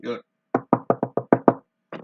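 A quick run of about seven evenly spaced knocks on a door, sharp and close, with a brief voice just before and after.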